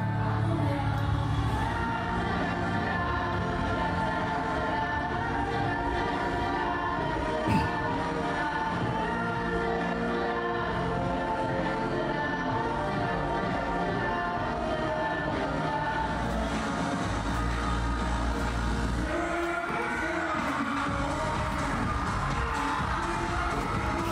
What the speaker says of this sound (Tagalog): Hiyawan lang talaga maririnig mo dyan ever